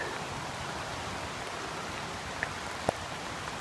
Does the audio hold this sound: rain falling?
yes